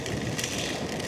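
Heavy rain pelts a motorcycle windshield on a long ride from Southern Leyte to Pampanga, a dense, steady hiss and patter that stays loud and close throughout.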